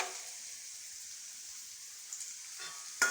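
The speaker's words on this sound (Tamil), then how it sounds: "வெங்காயம் நல்லா வணங்கிடுச்சு, போது ஆஃப் பண்ணிடலாம்" Onions frying in a pan on a home stove give a soft, steady sizzle that holds evenly throughout, with a brief clatter near the end.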